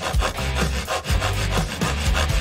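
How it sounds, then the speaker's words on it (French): A hand saw rasps back and forth through a cookie in steady, loud strokes, about four pulls in quick succession, with no voices. "C'est épuisant de scier."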